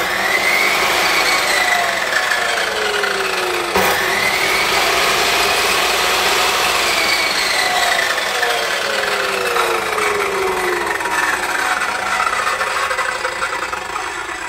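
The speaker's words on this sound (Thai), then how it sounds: "เดี๋ยวเรามาลองฟังเสียงเครื่องกันดูนะครับผมช่างลองกดหน่อยครับ" A ZARINO fiber cut-off saw runs with a steady, loud motor whine for the whole stretch, with rising and falling tonal sweeps as the blade speed shifts and a sharp click just before four seconds, with no voices.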